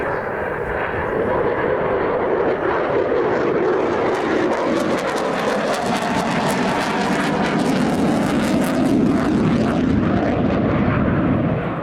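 An aerobatic plane rolls repeatedly in a fly-past at the Royal International Air Tattoo air show. Its loud engine roar fills the whole stretch without a break, shifting slightly in tone as it passes.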